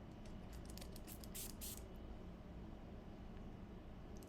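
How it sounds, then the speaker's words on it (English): Several quick, airy spray bursts from a hair and body mist bottle, close by, followed by a low steady background hum. "I guess I just have to spray it on"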